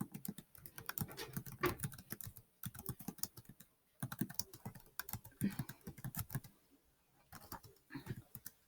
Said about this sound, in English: So I'm going to type here.